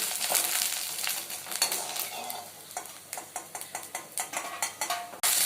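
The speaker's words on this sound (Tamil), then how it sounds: "வெங்காயம் போட்டு வதக்குறாங்க." Onions sauté in oil in a kadai while a spatula stirs them, giving a steady sizzle under rhythmic scraping strokes that turn into regular, even beats. The sound is close and clear, with no voices.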